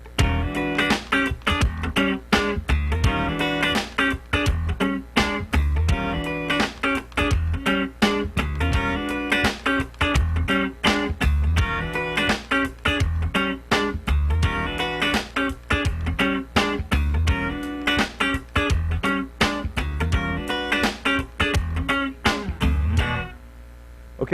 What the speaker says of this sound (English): Now let's do the exact same part with a swing feel.